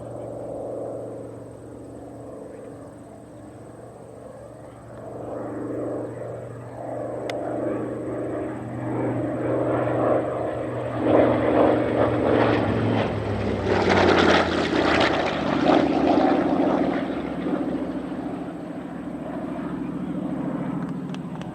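An A6M Zero propeller warplane named Last Samurai flies at the Great State of Maine Airshow, its engine drone swelling from distant to a loud close pass, then fading.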